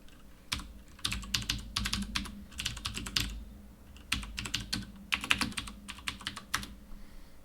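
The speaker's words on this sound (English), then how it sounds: "I'm going to go to my repositories, where I'll just type it in" Fingers type on a computer keyboard, close and clear, in quick bursts of clicking keystrokes separated by short pauses, with no voices.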